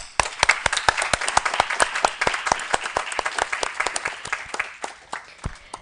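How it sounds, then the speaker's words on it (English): Audience at a final debate competition applauding, a crisp run of many individual claps in quick irregular rhythm, fairly close and alone, thinning slightly toward the end. "let us give a huge round of applause to everyone who has made it this far"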